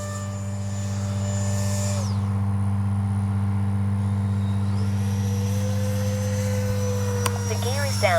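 An H-King Flycat V2 RC jet flies a pass down a runway, its turbine whine steady and loud throughout, pitch shifting as it climbs and turns, over a constant low electrical hum.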